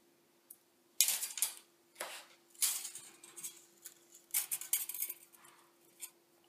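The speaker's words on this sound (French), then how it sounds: "Je coupe 50 cm de fil d'aluminium." Aluminium wire being snipped and handled while making a rainbow loom elastic-band smartphone stand: a series of sharp metallic clicks and rustling bursts in an uneven rhythm, close and fairly quiet, with no talking.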